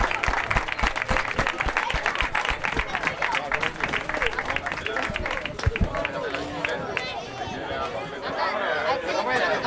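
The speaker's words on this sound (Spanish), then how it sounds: "Un fuerte aplauso para David." Outdoor crowd applauding a cyclist, number 20, at a cycle touring event, with dense clapping mixed with chatter and voices throughout, steady and fairly loud.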